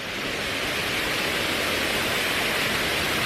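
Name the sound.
artificial waterfall on the San Antonio Riverwalk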